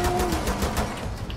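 Rapid gunfire from the tactical shooter game Rainbow Six Siege, a dense, continuous burst of shots at steady loudness with no pauses across the short stretch.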